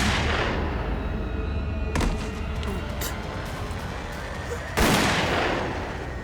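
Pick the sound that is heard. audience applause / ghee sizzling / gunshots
gunshots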